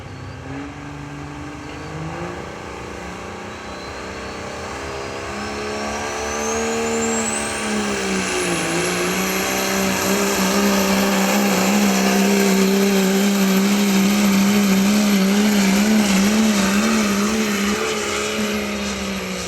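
A 1976 Chevy truck's engine roars loud and close at a truck pull, rising in pitch as it strains and then holding a sustained high-revving drone through the run.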